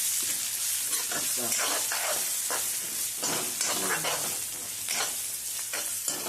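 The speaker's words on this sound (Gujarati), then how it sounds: "અને હવે આપણે આની અંદર નાખીશું કેપ્સિકમ, લાલ મરચાં અને લીલા મરચાં, એને પણ આપણે સાતળી લેશું" Capsicum with red and green chillies sautéing in a pan for a Gujarati cabbage dish, giving a continuous hissing sizzle with repeated scraping stirs of a spoon throughout.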